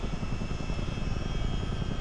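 A Chinook CH-47 helicopter in flight gives a steady, dense low rotor-and-engine roar with constant loudness and no speech.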